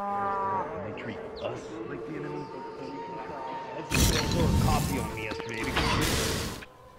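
A cow moos with a drawn-out, wavering call, followed by a loud burst of clattering mechanical noise midway.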